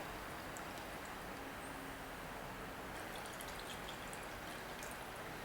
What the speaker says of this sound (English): See it pouring through? It pours through nice and freely